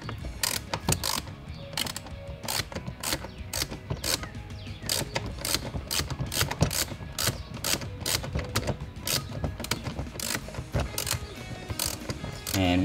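A ratchet fitted with a 10 mm socket loosens a bolt, giving a long run of quick, close, crisp clicks in steady bursts, each stroke ending in a sharp ratcheting pause before the next.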